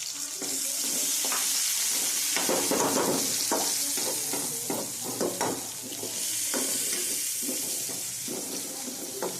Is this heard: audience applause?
no